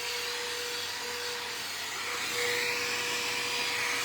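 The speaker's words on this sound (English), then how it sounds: "I love this blow dryer, you guys." A blow dryer runs steadily at close range, a continuous whirring hum with a fixed tonal whine and no talking over it.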